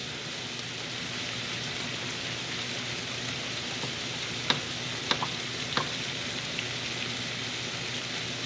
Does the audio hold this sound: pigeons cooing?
no